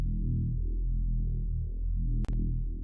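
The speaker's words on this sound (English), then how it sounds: "It's basically just a Reese bass," An unprocessed Reese bass synth holds one deep, thick note with a slow phasing wobble, loud and steady throughout, broken by a single sharp click near the end.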